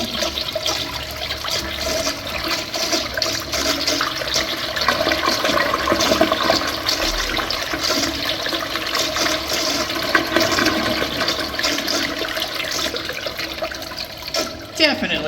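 An early 1900s Crane Sanwall toilet flushes with a long, loud rushing surge of water that swirls and drains for about fifteen seconds before a gurgling finish, with a voice talking briefly over it.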